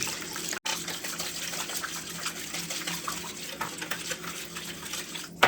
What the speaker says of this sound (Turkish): Şöyle hemen iyicene karıştırıyorum.